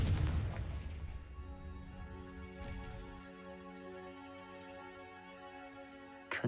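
A Confringo fire spell blast in Hogwarts Legacy: one heavy booming burst at the start, then a long ringing, tonal magical decay that fades slowly, with a small sharp pop near the end.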